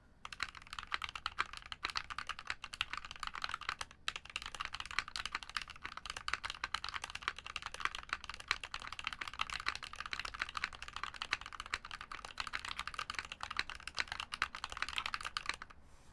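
Steady, fast typing on a rebuilt tofu60 mechanical keyboard with a walnut case, continuous close clacking keystrokes with brief pauses and no talking.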